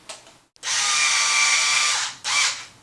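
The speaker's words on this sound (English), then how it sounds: "And now let's tighten up our large pins." Power driver whirring as it tightens large pins on aluminum steering knuckles of a Traxxas Maxx RC truck, a close, loud sustained whine of about a second and a half, then a second short burst.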